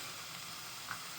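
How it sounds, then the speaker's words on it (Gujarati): Cumin seeds sizzling in hot oil with browned ginger and garlic, a steady, fairly faint hiss with one small pop near the end and no voices. "1 ચમચી ઉપર જીરું એડ કરવાનું છે."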